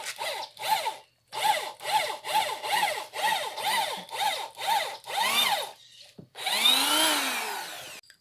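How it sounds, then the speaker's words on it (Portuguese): Power tool driving screws into a wooden kitchen table, repeated whirring bursts that rise and fall in pitch, about ten in steady rhythm with brief gaps, then a longer, louder run near the end; close and loud, no speech. "e ele tá parafusando"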